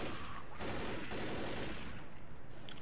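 Gunfire in Left 4 Dead, a dense burst of rapid automatic shots filling the scene, loud and continuous for a few seconds before easing off.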